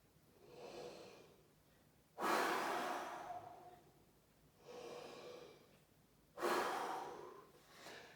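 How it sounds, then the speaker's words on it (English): A tuba player takes two big, deep breaths before playing, each a long, rushing intake of air heard up close and alone, with softer exhales in between. "I'm going to suck in half of this air of the room, and it's going to fill up my body,"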